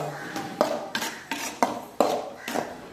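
A spoon knocks and scrapes against a pan while stirring dry fish gravy with chilli powder, about six sharp metallic clinks in an uneven rhythm, close and fairly loud, with no talk.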